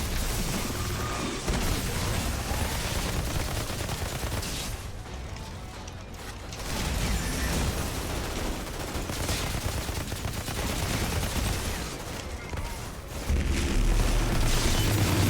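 Rapid bursts of gunfire and booming blasts in the Outriders demo fill the scene almost nonstop, with brief lulls between volleys and no voices.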